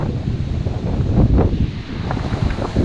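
Steady wind buffets the microphone on a sandy beach during stormy weather, a continuous broadband rush with gusty swells and no voices.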